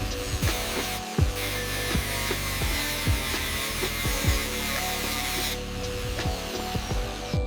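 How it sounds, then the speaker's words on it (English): Steel brush scrubbing years of corrosion off the original bolts of an abandoned 1998 Yamaha YZF-R1 superbike: a dense, steady, close-up scratching that runs unbroken through the whole stretch, with light knocks mixed in. "Using the steel brush, we're carefully removing the years of corrosion from these original bolts."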